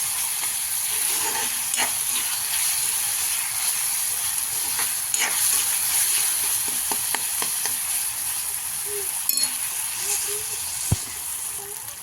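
Finely chopped tomatoes fry in oil for chicken sukka, a steady soft sizzle with scattered pops and stirring clicks, close by, with faint voices at moments.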